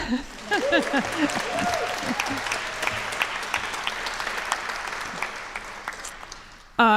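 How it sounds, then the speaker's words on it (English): Sustained audience applause fills a church after a call to honor the Sunday musicians, dense steady clapping throughout with some voices mixed in, ending abruptly. "So how about a round of applause for all of them?"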